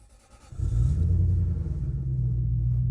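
A high-mileage car with 375,000 miles starts up, its engine running rough on seven cylinders: a brief cranking leads into a loud, steady, low idle rumble close by, with no talking.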